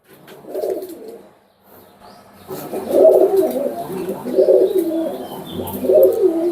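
Oman teddy pigeons coo in a series of loud, close, rolling calls, with one early burst, a short pause, then several repeated coos.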